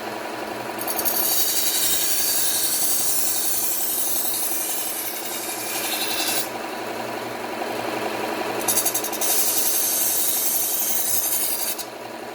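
A knife blade grinding against a belt sander, a steady loud abrasive rasp with the motor's hum underneath, running almost without a break and briefly easing off before the grinding resumes.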